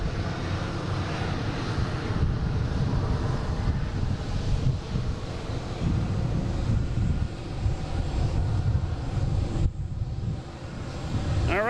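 Delta Airbus A321neo jet landing at Boston Logan International Airport, a loud continuous engine roar with wind buffeting the microphone, sustained throughout.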